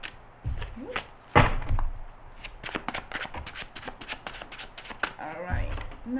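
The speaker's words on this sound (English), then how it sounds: "Let's give this another quick shuffle." A deck of tarot cards shuffled up close in a quiet room, with quick riffling bursts, a louder snap or two and scattered soft taps and slides between them.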